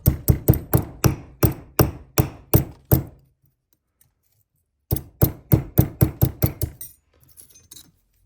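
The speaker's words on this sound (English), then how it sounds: "I might actually be able to use just my peening hammer." A peening hammer strikes a fish knife during restoration, two bursts of sharp metallic ringing blows in quick regular rhythm with a pause between, close and loud, ending in faint light taps.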